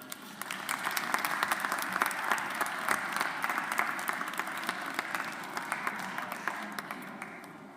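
A large audience applauds steadily at a university graduation ceremony for the Faculty of Humanities and Social Sciences, a dense, continuous clapping that fills the hall without a break.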